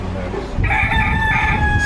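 A rooster crows once on Curaçao, a bright drawn-out call rising above a steady outdoor background, fairly close and clear.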